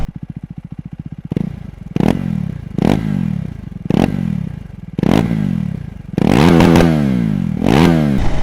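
A motorcycle engine runs, starting with a fast steady idle and then giving a series of sharp loud revs, each rising and falling, with the last ones coming in quick succession.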